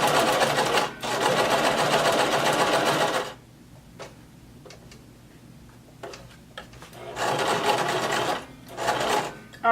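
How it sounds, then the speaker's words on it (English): Sewing machine stitching fabric for a halter crop top, running in two loud steady bursts separated by a quiet pause with faint ticks, close and alone without talk. "Go ahead and lower your needle, begin sewing, backstitch, and we're going to sew all the way around until we get to our stopping point"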